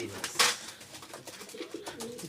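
Giribaz pigeons coo softly in a close, low series of calls, with a sharp rustle near the start and a person talking over them.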